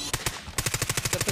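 Rapid automatic gunfire in a Call of Duty match, a short burst, a brief pause, then a long regular run of about a dozen close, evenly spaced shots.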